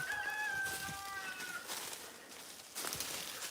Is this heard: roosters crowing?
yes